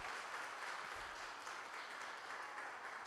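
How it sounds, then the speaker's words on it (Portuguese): Steady applause from a church congregation, a continuous wash of clapping heard at moderate distance, no distinct voices. "Você pode dar uma salva de palmas"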